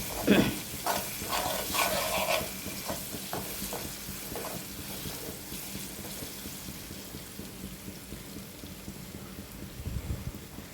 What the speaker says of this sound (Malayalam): എന്നിട്ട് ഒന്ന് ഇളക്കി കൊടുക്കുക ഒന്ന് ഫ്രൈ ആകുന്നത് വരെ